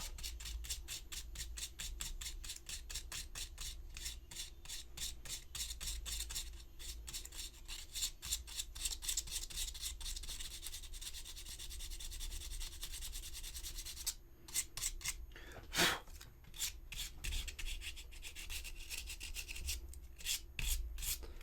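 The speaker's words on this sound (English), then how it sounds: "and you sand it smooth." Steady, rhythmic scratchy rasping of sandpaper rubbed back and forth over seamlines on a hard resin model, close up, continuing for a long stretch.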